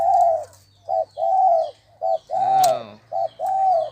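A dove coos in a repeating pattern of soft, low hooting notes, close and clear, with brief pauses between phrases.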